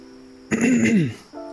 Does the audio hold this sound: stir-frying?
no